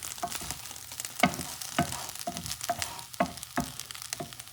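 A Wagyu steak fries in a pan over low heat, giving a soft, crackling sizzle broken by regular sharper pops and scrapes, close and with no talk.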